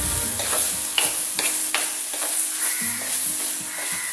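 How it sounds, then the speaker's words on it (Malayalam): Crushed dried red chili and curry leaves being stirred in a hot pan while making jackfruit-blossom thoran, a steady close sizzle with scraping spoon strokes and no voices. "ചതച്ച് വെച്ചിരിക്കുന്ന വറ്റൽ മുളക് ചതച്ചത് ഒന്നിട്ട് കറിവേപ്പിലയും കൂടെ ഒന്ന് വിതറി അതിന് ജസ്റ്റ് ഒന്ന് ഇളക്കാം."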